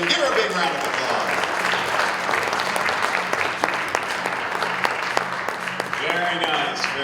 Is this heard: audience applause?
yes